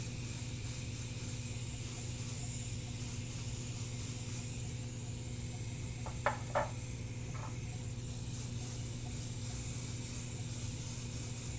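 An airbrush sprays paint speckles onto a Wolverine figure, a steady close hiss of air running continuously, with a couple of faint knocks partway through.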